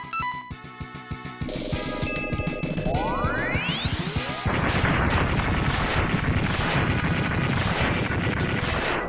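Rapid blaster fire from the Rockman X2 video game rattles out in quick bursts over driving game music, with a rising sweep effect partway through and dense, loud action sounds after it.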